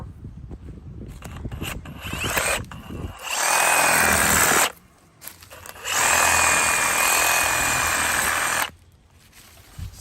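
Power tool cutting a small half-inch tree root in lawn dirt, two sustained bursts of gritty whirring separated by short pauses, preceded by rustling handling noise, close and fairly loud.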